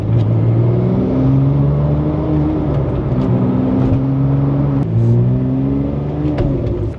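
A Porsche car drives after suspension work, its engine humming and rising through the gears in steady revving pulls from inside the cabin, with no talk.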